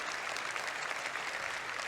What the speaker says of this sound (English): Very confused applause.